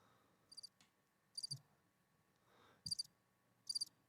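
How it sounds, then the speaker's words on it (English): Crickets chirp in a sound effect, four short high trilled bursts spaced about a second apart, faint and with no other sounds around them. "Crickets."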